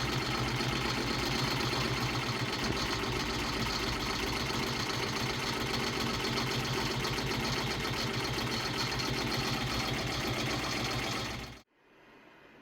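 A Redline 1501 embroidery machine stitches an appliqué mouse-head outline on a child's shirt, a steady close mechanical whir with rapid needle rhythm running unbroken, then stopping abruptly near the end.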